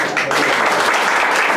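Applause from guests at an 80th birthday celebration, a steady broadband patter of many hands clapping continuously throughout, fairly close and loud, with no clear voices over it.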